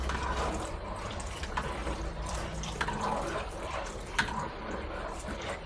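Water is poured into a cooking pot in a steady, continuous gush with faint clinks and drips, close and fairly loud throughout.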